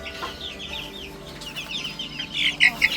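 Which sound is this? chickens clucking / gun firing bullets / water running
chickens clucking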